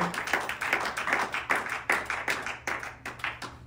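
Rhythmic hand clapping from a church congregation acclaiming the Lord, a steady run of sharp claps at an even beat, moderately loud and filling the room with no speech over it.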